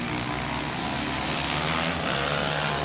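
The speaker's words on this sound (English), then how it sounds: "that Barrett exhaust on a Husky is something special" A Husqvarna off-road motorcycle fitted with a Barrett exhaust roars at a desert race, a loud, continuous, deep engine drone held under load without a break.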